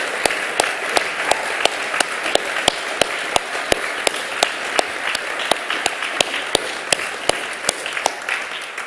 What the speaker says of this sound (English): we ought to give SPAB staff and the funders also a round of applause